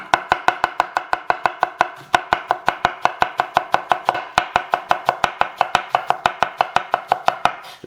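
A knife chops thin slices of cabbage on a cutting board in fast, even strokes, dozens of crisp close knocks in a steady rhythm with only a brief pause near the two-second mark.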